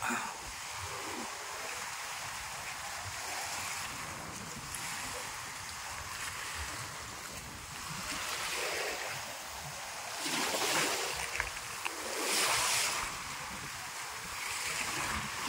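Steady ocean surf rolls throughout on a rough day, with waves swelling and breaking more loudly now and then over a constant wash of water and wind, off Roxas, Oriental Mindoro.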